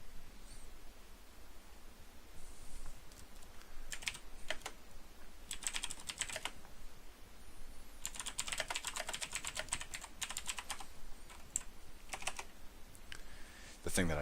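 A loud mechanical keyboard rattles out bursts of rapid, close clicking separated by short pauses, heard over a faint low hum.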